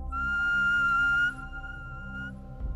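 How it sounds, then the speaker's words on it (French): A whistle made from animal phalanx bones gives a steady, fairly loud high tone for about a second, then a softer sustained note continues before fading out. "On retrouve aussi des sifflets, réalisés avec des ossements de phalanges animales."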